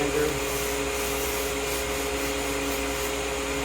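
Sandpaper of 180 grit rubbed by hand along wooden stair parts, giving a steady, close, continuous scratchy rasp with little variation in rhythm.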